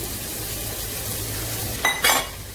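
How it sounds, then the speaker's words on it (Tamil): Bitter gourd pieces drop into a pan of lightly fried onions: a low, steady sizzle, then two sharp bursts of louder hissing and clattering as the gourd hits the hot oil, close by. "இது வெங்காயம் இப்படி லைட்டாக வறுபட்ட உடனே இந்த பாவக்காவை அப்படி போட்டுடலாம்"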